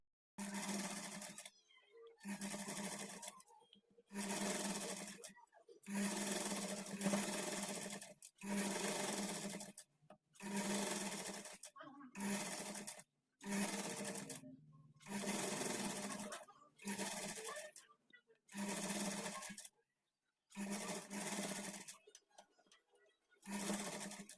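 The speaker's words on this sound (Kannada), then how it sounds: "ಮಿಷಿನಲ್ಲಿ ನೀವು ದೊಡ್ಡ ಸ್ಟಿಚ್ ಇಟ್ಕೊಂಡು ಸ್ಟಿಚ್ ಮಾಡ್ಕೊಳ್ಳಿ" A sewing machine sews a blouse hemming strip with long stitches, running in a dozen short, regular bursts with brief pauses between them, close and clear.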